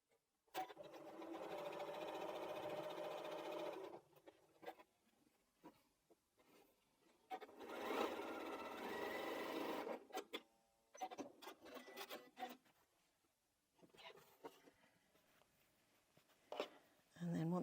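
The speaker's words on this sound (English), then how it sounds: "So let's just sew those 2 seams." Quilt block seams stitched on a sewing machine in bursts of steady whirring, near and clear, separated by pauses with handling sounds and quiet talk between runs.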